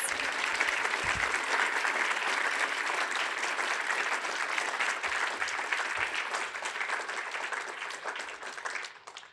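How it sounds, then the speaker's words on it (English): A large audience at a national pro-life summit applauds panelists with sustained, loud clapping that fills the room and begins to thin out only in the final moments. "can we give our panelists a big round of applause?"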